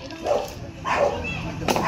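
A dog barks three times in short, spaced yelps, close and fairly loud, during an outdoor cobra encounter in Gumaca, Quezon. Some softer background noise runs beneath the barks.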